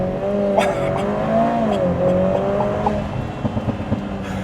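A 400-horsepower Lotus Emira Turbo accelerates hard from a launch, its engine note droning and climbing in pitch as a loud, continuous tone heard from inside the car.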